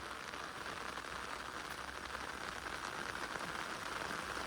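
Steady rain falls and patters on surfaces in a continuous dense hiss, with no talking.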